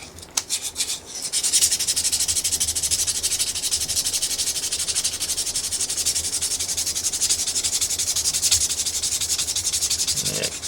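Fine, high-grit sandpaper rubs steadily and continuously at close range, with a dense, even scratching texture and no talk.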